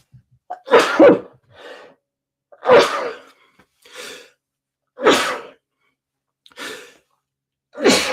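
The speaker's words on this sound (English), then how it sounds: "I'm about to sneeze too, so we'll wait and see what happens." A person sneezes repeatedly, several sharp bursts spaced a second or so apart with short inhales between, close and fairly loud.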